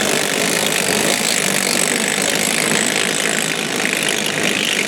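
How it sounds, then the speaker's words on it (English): A drill grinds steadily through the wall of an above-ground pool as a compression fitting punches a hole, a continuous harsh mechanical whir with no break. "You tighten the drill down and it pops a hole through the wall."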